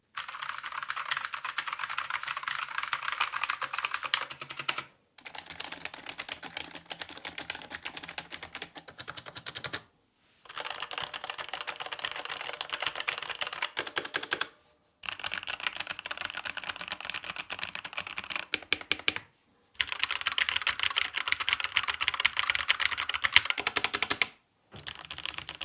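A Corsair K70 Core TKL keyboard with MLX Red V2 linear switches is typed on in steady, close, rapid keystroke runs of about five seconds each, separated by brief silent gaps, with no talking.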